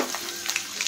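Cumin seeds and green chillies fry in hot oil for sabudana khichdi, a brief close hiss with a few faint crackles.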